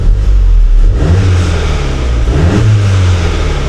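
A Volkswagen GTI engine runs after a misfire fix and revs up a couple of times, a loud, close mechanical rumble rising and falling with no voices over it.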